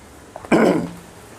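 A man gives one short, harsh throat-clearing cough, loud and close, after a couple of faint preceding sounds, then quiet.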